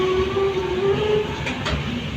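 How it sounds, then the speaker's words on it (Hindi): Trains at Gorakhpur Junction railway station in India give a steady rumble with a faint whining tone and brief higher clatter, continuous throughout, with no talk. "आप देख रहे हैं गोरखपुर जंक्शन। पूरे एशिया का सबसे बड़ा रेलवे स्टेशन है"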